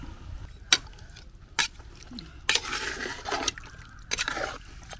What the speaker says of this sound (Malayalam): ഒരു വെള്ളം കൂടെ ഒഴിച്ച്